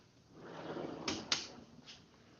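A wooden workshop drawer slides open and shut nearby, giving two quick knocks close together and then a softer bump, over quiet room tone.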